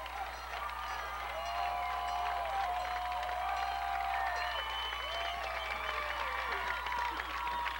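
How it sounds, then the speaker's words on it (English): Crowd at a 1994 high school football championship, Hilton's Section 5 Class BB title win, a sustained roar of applause and cheering with chanting rising and falling throughout, fairly distant and continuous with voices mixed in. "And the crowd's chanting, Hilton, Hilton, right to be."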